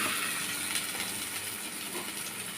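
Ash gourd fritters fry in a shallow layer of oil, giving a steady, dense hiss that stays even throughout and has no talking over it.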